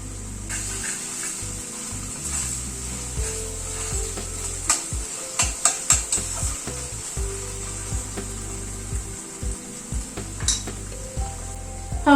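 Garlic frying with onion in a pan sizzles steadily, with a bright continuous hiss and a scatter of quick clicks and scrapes partway through.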